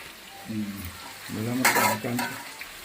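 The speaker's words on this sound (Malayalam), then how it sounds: "ചിക്കൻ വറുത്തുകൊണ്ടിരിക്കുന്നു" Pieces of chicken fry in hot oil for biryani, a steady crackling sizzle that swells into a louder, denser burst of spattering midway and then settles back to a softer fry.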